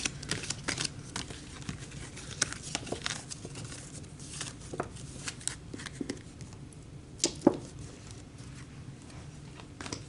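Tarot-style energy cards shuffled by hand at close range, a steady run of soft papery riffles and taps with a few sharper snaps, no voices.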